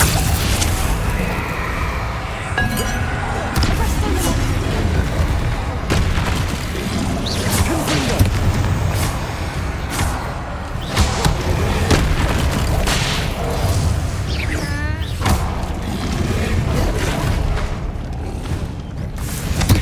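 Bombarda and Confringo spell blasts in the video game Hogwarts Legacy: repeated heavy booms and crashing impacts over a dense, loud bed of game sound effects and whooshes, steady throughout.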